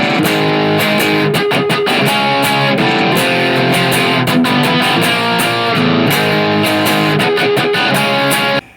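Distorted electric guitar playing a song, loud and dense with rhythmic chugging chords and sharp muted strums, steady until an abrupt stop near the end.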